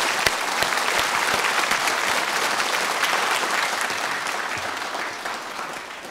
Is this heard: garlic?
no